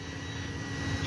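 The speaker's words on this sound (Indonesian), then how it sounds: "itu adalah suara kipas sebagai motor pendinginnya" A steady whirring radiator cooling fan on a Honda Supra X 125 motorcycle drones close by, a constant airy hum with a slight rise near the end.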